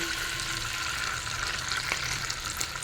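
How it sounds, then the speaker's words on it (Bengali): Mustard oil heats in a pan with a steady, close frying sizzle, and a few faint clicks and scrapes of a utensil sound over it, with no voices. "যে তেলটা আছে ওর মধ্যে আরও একটু সর্ষের তেল দেবো।"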